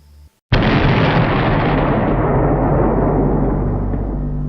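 The Hellgate fortress is blown apart in a video game, opening with a sudden loud blast. A long, rumbling roar follows and slowly tapers off, after a brief quiet moment before the hit.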